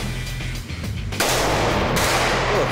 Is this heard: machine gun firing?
yes